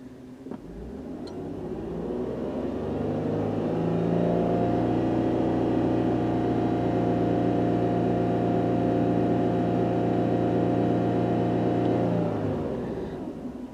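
A Hyundai Tucson that will not complete a drive cycle runs and drives with a steady, close engine hum. The hum builds over the first seconds, holds evenly and eases off at the end, with no talk.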